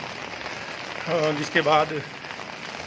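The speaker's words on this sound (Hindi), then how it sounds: "क्योंकि बारिश अभी भी धीरे धीरे चल रही है।" Light, steady rain falling in a mountain village in Uttarakhand, a soft continuous hiss throughout, with a person briefly speaking over it in the middle.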